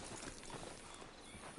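Horse hooves clip-clopping in a Western video game, a steady run of soft, even hoofbeats under a quiet background, no voices.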